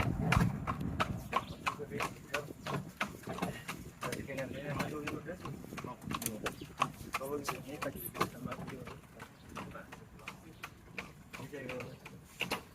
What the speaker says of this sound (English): by horse and buggy